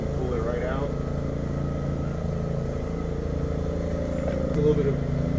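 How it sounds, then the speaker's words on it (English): A neighbor's lawn mower runs steadily at a distance, a continuous low engine drone with slight surges, holding under nearby work sounds throughout. "My neighbor is mowing his lawn"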